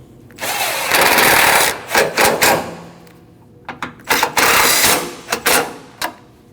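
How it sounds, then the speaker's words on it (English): Bolts being tightened on the AC condenser of a 2012-2021 Nissan NV2500, heard as two long bursts of close ratcheting or power-driver whirring separated by a pause, with short clicks and rattles between runs. "And tighten both bolts."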